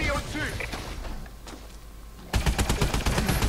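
Automatic gunfire from Call of Duty: Advanced Warfare, a dense burst of rapid shots that starts sharply partway through and stays loud, following a quieter stretch of game noise with talk.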